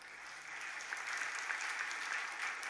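Steady applause from a crowd gathered for a sermon in a temple courtyard, sounding somewhat distant and soft, with dense overlapping claps continuing throughout.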